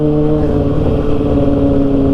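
A 2009 Kawasaki ZX6R motorcycle engine idles loud and close, a smooth steady hum with strong tonal bands and no revving or talk.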